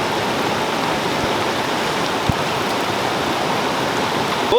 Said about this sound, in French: il pleut quand même beaucoup tout d'un coup